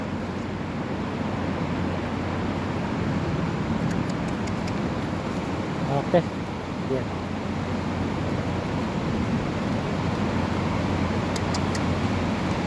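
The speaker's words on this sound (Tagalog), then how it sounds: "Ang lakas ng ulan mga kabakero." Heavy rain pours on a farm during a thunderstorm in a steady, dense broadband roar, with a brief spoken word or two over it.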